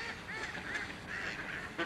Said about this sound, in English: there's some ducks in the water